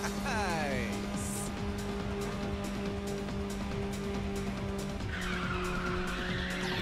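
A car drifting in the racing video game Ridge Racer 6, tires squealing in long sweeping skids over a constant engine drone, with game sounds and a voice over it.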